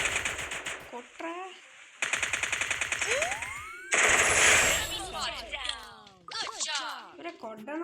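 Thompson submachine gun fire in a video game, heard as loud rapid automatic bursts with several distinct strings of shots, mixed with other game sound effects and close voices talking.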